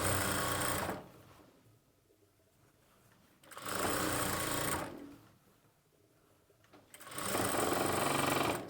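An electric sewing machine stitching a churidar slit runs in three loud, steady bursts of rapid needle chatter, separated by quieter pauses with faint handling of the fabric.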